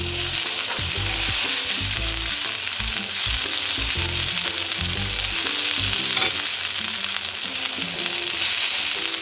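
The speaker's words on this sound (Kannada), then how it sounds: "ಟೊಮೆಟೊ ಒಂದು 4 ಹೋಳು ಹಾಕ್ತಾ ಇದ್ದೀನಿ ನೋಡಿ" Four tomato pieces fry in a pan for a village-style curry: a loud, dense, continuous sizzle with a low, rhythmic thumping of stirring beneath it, close up, with no talking.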